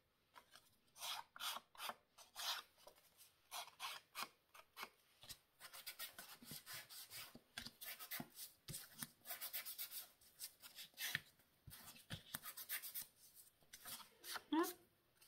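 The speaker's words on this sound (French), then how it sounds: "Je vais juste nettoyer un petit peu les bords parce que c'est pas très joli." Paper card edges being trimmed and cleaned up by hand during a sketch-card making session, giving repeated short rasping, rubbing and snipping strokes at close range, with a voice talking at times.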